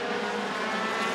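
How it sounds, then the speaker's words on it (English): Continuous high-pitched engine whine of Midwest Dash Series race cars at speed at Rockford Speedway, several cars battling for the lead, loud and steady, with no voices. "4, 5, 6 cars going at it for the lead here in the Midwest Dash Series"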